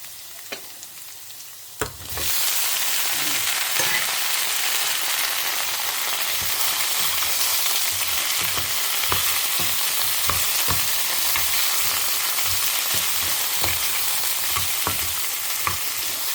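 A ground paste sautés in hot oil in a pan for a prawn bhapa dish, a loud steady sizzle that starts after a quiet moment, with regular stirring scrapes throughout and no talking.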